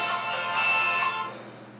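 A mobile phone rings with a bright, steady electronic tone that fades slightly at the end; the call comes from an unknown number.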